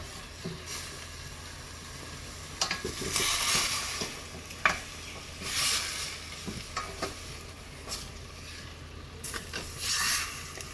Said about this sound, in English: Kakak will stir it together.